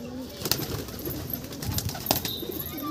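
Pigeons in a loft give faint, low coos amid soft rustling and occasional wing flaps, heard at a distance in a quiet space.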